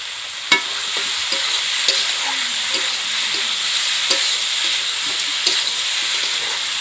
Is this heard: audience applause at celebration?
no